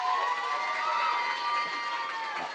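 A storytelling event audience cheers and applauds for Rebecca, a continuous burst of crowd shouts, whoops and clapping that stays loud and full throughout without letup.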